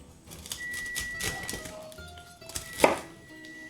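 Broccoli florets are torn off by hand, giving crisp snapping and rustling crunches in an irregular series, close and alone without talk.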